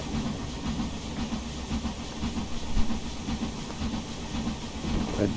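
Midland Railway Johnson Spinner 4-2-2 steam locomotive in a train simulator game, a steady rhythmic chuff over continuous hiss and rolling wheel noise, even and sustained throughout.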